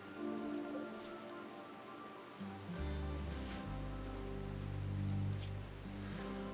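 Rain patters steadily in a video game, a soft continuous hiss of drops on surfaces mixed with low droning ambient tones and no talking.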